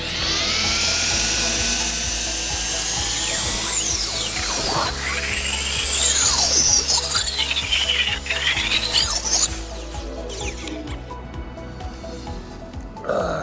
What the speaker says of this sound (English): I'm going to hit this corner a little bit more just with the grinder